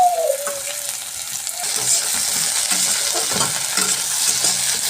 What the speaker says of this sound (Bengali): পেঁয়াজ কুচিটা লাল লাল করে ভেজে নিয়ে এর মধ্যে আলুটা দিয়ে দিই